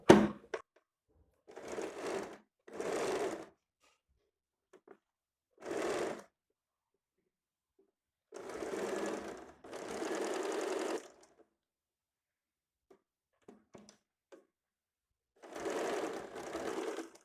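A sewing machine stitches blouse fabric in several separate runs of a second or so each, close and steady with pauses between bursts and no talking.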